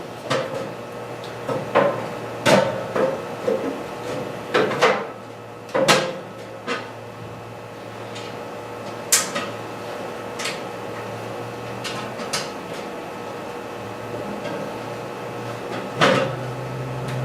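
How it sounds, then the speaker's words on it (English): A metal boiler access panel being refitted, a series of sharp clanks, taps and knocks at irregular intervals, close and fairly loud over a steady hum. "So we're going to put our access panel back on."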